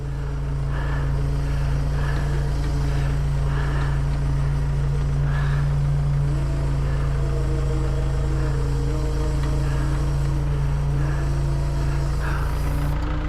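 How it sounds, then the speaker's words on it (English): A winch hauls a Ford F150 truck up a steep off-road hill, a loud, steady low-pitched engine and motor drone with a constant hum and some wavering mid-pitched strain over the whole span. "I'm gonna keep on winching and just keep your wheel turned that way."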